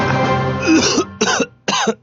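Someone coughs several times up close: one long, rough cough followed by two short, sharp coughs with brief pauses between.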